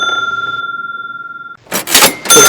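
A notification bell dings with one sustained, steady ringing tone. It is followed by a few short, loud, noisy bursts.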